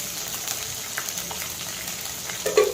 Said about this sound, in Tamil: தாளிப்புக்கு கடுகும் வெந்தயமும் போட்டு தாளிச்சிக்கலாம்